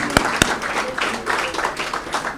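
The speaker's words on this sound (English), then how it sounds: "please give them a final round of applause" A conference audience claps for the speakers, opening with two sharp, distinct claps before a looser, moderate round of applause follows with faint voices mixed in.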